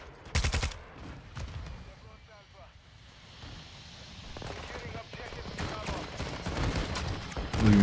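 Rapid bursts of gunfire from Call of Duty MW2 multiplayer, including shotguns, come as sharp clustered blasts near the start and a denser volley toward the end, with quieter game noise and a low wind-like hiss between.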